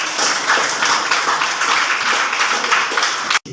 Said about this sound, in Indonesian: Ya, tepuk tangan dulu buat.